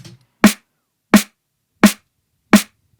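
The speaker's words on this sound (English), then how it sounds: "I made the snare myself in Serum with some external plugins" Four punchy neurofunk snare hits synthesized in Serum, evenly spaced and loud, each a sharp crack with a tight low body and quick decay, in silence.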